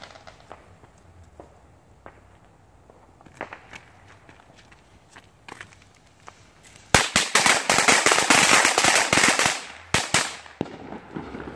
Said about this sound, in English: I love fireworks. Happy 4th of July.